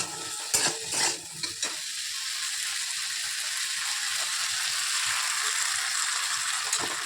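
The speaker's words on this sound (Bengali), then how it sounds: "টমেটো বাটা চলো একটু ভাজা ভাজা হোক" Tomato paste fries in a pan for an oil-free potato, pea and paneer curry, giving a steady close sizzle throughout, with a few sharp stirring scrapes near the start.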